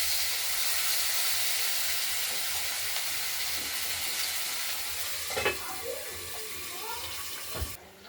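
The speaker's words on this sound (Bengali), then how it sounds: "আলুগুলো ভাজা হোক" Potatoes and tomato frying in a pan give a continuous close hiss of sizzling oil, with a few clinks of a utensil near the end and no talking.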